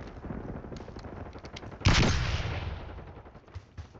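Video game gunfire in a mission to protect a high-value target: a sudden loud blast or volley cuts in midway and rings out, fading over the following seconds above a busy background of scattered distant shots.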